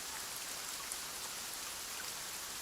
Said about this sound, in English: it was raining pretty hard in Manila